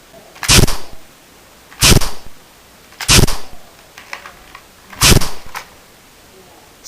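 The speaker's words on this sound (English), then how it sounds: "with sound effects, it can be a real gun" Four sharp toy-gun shot effects for a plastic gun, evenly spaced about a second and a half apart, loud and close with short decaying tails, no talking.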